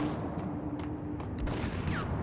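Gunfire in the 2001 PC game Max Payne, a steady crackle of several brief shots spread across the clip over dense ambient noise, at moderate loudness with no talk.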